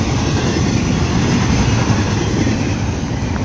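A CSX freight train rolls past close by, a steady loud rumble of wagons with faint clatter sustained throughout, no voices.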